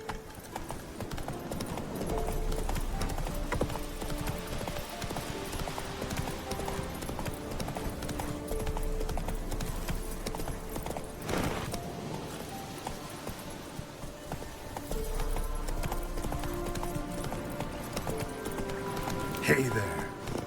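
Roach, the horse in The Witcher 3 next-gen edition, gallops with steady rapid clip-clopping hoofbeats that continue throughout, close and even, under a layer of game music and ambience.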